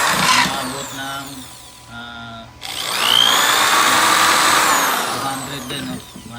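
An electric drill runs continuously at close range, its whine dropping out briefly for about half a second before starting up again steadily.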